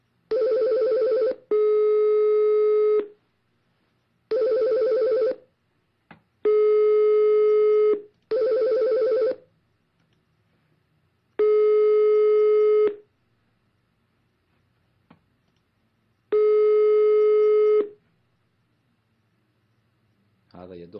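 A telephone call rings out over the line in several long, evenly spaced tonal bursts with gaps between them, then ends in a short busy signal, clear and unaccompanied by voices.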